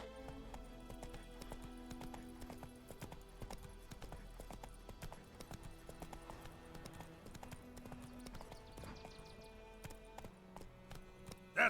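Roach's hooves in The Witcher 3 clip-clop in a steady trotting rhythm throughout, fairly quiet and mixed with game music and ambience.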